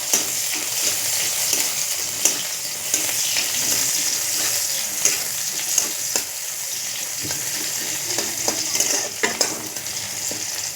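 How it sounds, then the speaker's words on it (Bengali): Cumin seeds and chopped onion fry together in hot oil with a loud, continuous sizzle, broken by scattered scrapes and taps as a spatula stirs through the pan. "তো জিরা পেঁয়াজ একসঙ্গে ফ্রাই করব"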